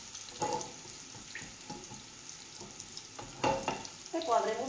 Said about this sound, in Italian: Questi sono i nostri cuoricini di nasello, merluzzo, come lo volete chiamare. Ecco qua che sta, comincia a soffriggere.